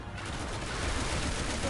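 Rapid gunfire from the video game Resident Evil 6, a dense, continuous volley of shots that stays loud and steady throughout, with faint voices mixed underneath.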